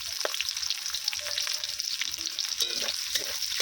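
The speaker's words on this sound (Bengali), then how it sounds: "এরপরে আমি দিয়ে দিচ্ছি কেটে রাখা পেঁয়াজ" Chopped onions fry in hot oil with whole cardamom, cloves and cinnamon, giving a close, steady sizzle broken by light scraping stirs. No voices are heard.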